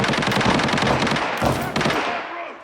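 Rapid automatic gunfire in Arena Breakout rattles in close, loud bursts, pauses briefly, then another volley cracks before fading into quieter tails.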